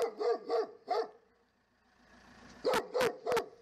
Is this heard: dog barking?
yes